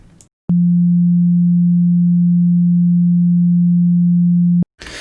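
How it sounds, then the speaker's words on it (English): A steady, pure low sine-wave tone from the Serum software synthesizer holds unchanged for about four seconds, starting and stopping abruptly, with faint noise around it. "Serum is outputting a perfect sine wave"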